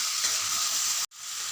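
Spice paste sizzles and crackles steadily as it is stirred with eggplant and potato in a hot pan, a constant close frying hiss that briefly cuts out before resuming.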